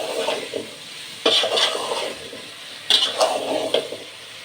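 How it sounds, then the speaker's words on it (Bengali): Eggplant is stirred with a spice mix in a cooking pan: two bursts of scraping, tossing strokes over a low, soft sizzle, with quieter pauses between them. "নাড়াচাড়া দিয়ে ভালো মতো মশলাটা মিক্স করে দিই বেগুনের সাথে।"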